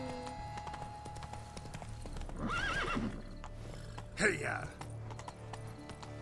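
A horse in The Witcher 3 neighs and whinnies twice amid steady clip-clop hoofbeats, with someone shouting over it and faint game ambience underneath.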